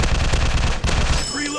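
Rapid automatic gunfire from a robot-themed first-person shooter game, loud dense bursts of shots in quick succession that break off briefly near the middle, then trail into a short mechanical tail at the end.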